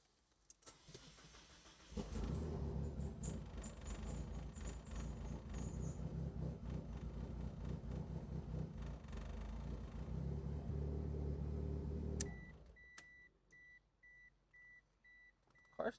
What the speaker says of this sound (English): Car still starts